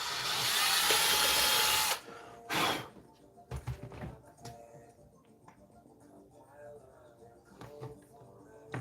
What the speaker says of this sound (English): I'm gonna drill that out a little bit.